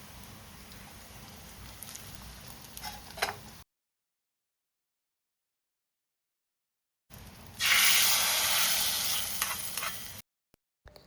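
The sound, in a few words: tempering poured into drumstick leaf curry, sizzling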